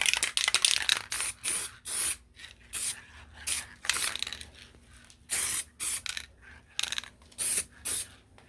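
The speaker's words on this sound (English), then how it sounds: "Just going to give this one nice little coat of multi-tie adhesion promoter." Adhesion promoter is sprayed from an aerosol can onto a plastic car door handle in a series of short, close hissing bursts separated by brief pauses, with no talking.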